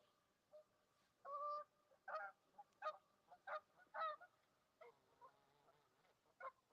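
Geese honk in a series of loud, distinct calls spaced roughly every half second to a second, fairly close, with quieter calls trailing off at the end.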